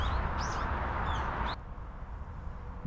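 Birds sing in a dense forest along a walking trail near Seoul. A few high, thin chirps and short calls rise over a steady outdoor background of wind and hiss, then the sound drops away partway through.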